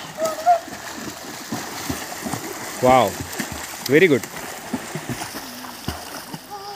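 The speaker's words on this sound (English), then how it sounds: "now start swimming" Swimmers splash and slosh in a clear jungle stream, short watery bursts rising now and then over a steady flowing murmur, while people nearby talk and exclaim.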